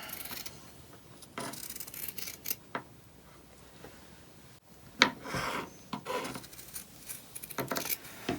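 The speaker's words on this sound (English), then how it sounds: "And then we'll just take our scissors and cut both layers." Scissors snipping through two layers of terry towel fabric along a marked line, a series of soft rasping cuts with short pauses between them, close and quiet, no voices.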